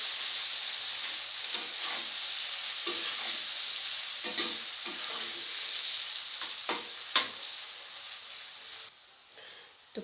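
Onion frying to light brown in a pan for a katla fish curry, a constant close hiss and sizzle broken by repeated spatula scrapes and taps as it is stirred.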